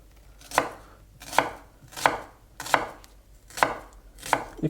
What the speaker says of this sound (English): So you cut the onion,